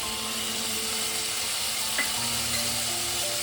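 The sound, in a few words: ginger-garlic paste sizzling and being stirred in a pan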